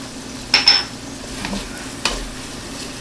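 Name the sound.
garlic sautéing with softened vegetables in pan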